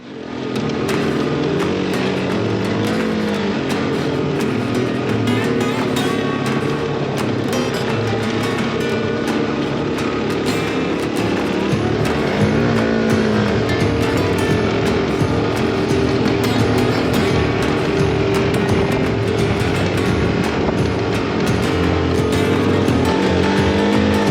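Motorcycle riding slowly through the Anza-Borrego Desert alongside a Jeep convoy, a loud continuous engine drone mixed with wind and rolling noise throughout.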